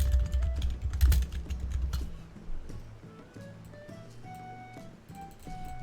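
Close computer keyboard typing clatters in a quick burst for about two seconds, then fades to a few scattered clicks under soft game music from Final Fantasy XIV.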